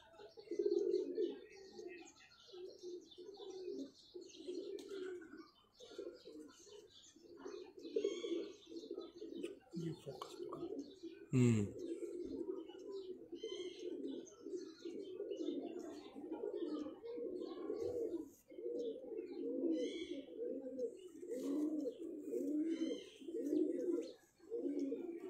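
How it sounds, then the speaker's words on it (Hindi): Domestic pigeons, including a blue pigeon from a fancier's bloodline loft, coo in repeated low throaty rolls, with several birds overlapping nearby, light chirps above and a brief clatter midway. "नीला कबूतर"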